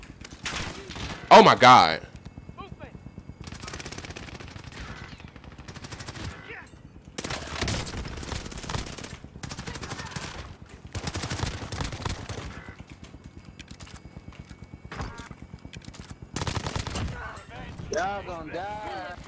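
Gunfire in Call of Duty: Warzone comes in repeated bursts of automatic shots at close to moderate range, broken by short pauses, with players talking excitedly over it.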